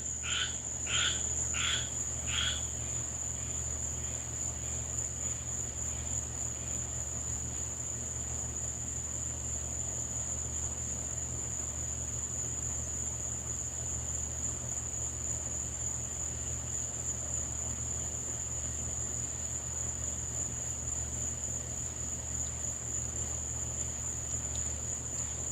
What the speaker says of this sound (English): it's tree frogs, believe it or not